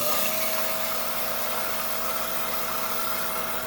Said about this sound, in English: down here on our 5-inch high-tech trim saw